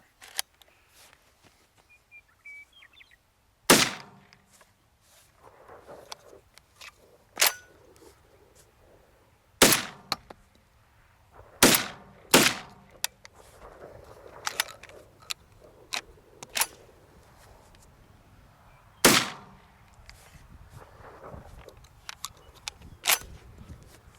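Loud, sharp shotgun blasts from a Tristar Raptor 12-gauge semi-automatic turkey shotgun fired outdoors, about seven separate shots spaced irregularly a few seconds apart, with rustling and handling noise between them.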